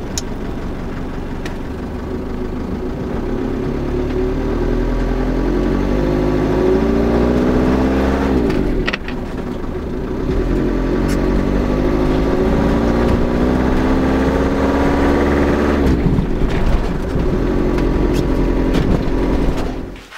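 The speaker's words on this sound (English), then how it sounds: "I'm just going to go and give the van a little drive, only 5 minutes, just to warm up the engine a little bit" The engine of a Ford Transit van with an MT75 gearbox runs steadily while being driven, a loud continuous drone with rising and falling revs at two gear changes and a brief drop at the very end.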